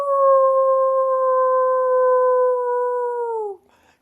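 A voice imitates a wolf howl, one long, steady, loud note held for about three and a half seconds before dropping off abruptly into quiet.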